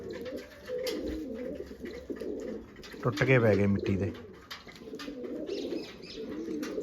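Pigeons coo in a deep, throaty burst near the middle, with someone talking over steady background chatter and bird sounds throughout.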